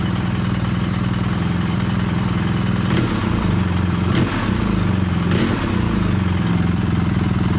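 A BMW R1300GS motorcycle on stock air filters idles steadily up close, its deep throbbing rumble broken by three short throttle blips that briefly lift the engine note before it drops back.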